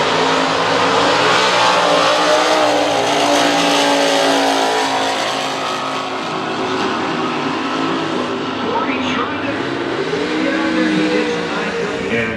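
Drag race cars, among them a 1967 Chevy 409, launch side by side at a Pontiac Nationals drag strip with loud, continuous engine roar and revving throughout, while commentators talk over it.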